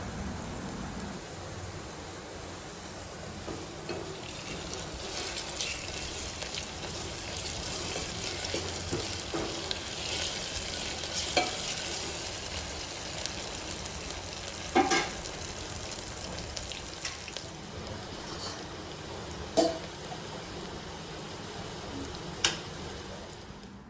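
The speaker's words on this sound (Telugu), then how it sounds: "యాడ్ చేసుకొని పచ్చివాసన పోయేంత వరకు సిమ్లో పెట్టి 2 మినిట్స్ వరకు కలుపుతూ ఉండాలి." Curry leaves and garlic paste frying on low heat for an okra pulusu, giving a soft, steady sizzle with occasional faint taps of stirring.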